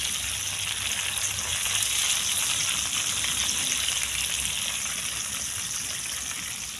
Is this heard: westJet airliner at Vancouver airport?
no